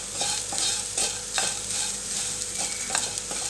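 Freshly grated coconut fries in a pan for mutton paya, a continuous close sizzle with rhythmic scraping strokes of a spatula stirring it every half second or so.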